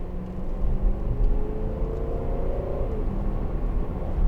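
A 2012 Range Rover 4.4 TD V8 runs with a deep, steady rumble and a slight rise in revs, heard from close by with no talking.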